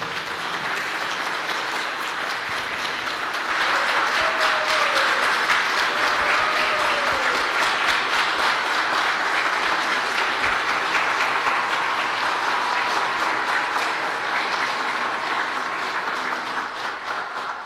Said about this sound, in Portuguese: As palmas sempre para Jesus.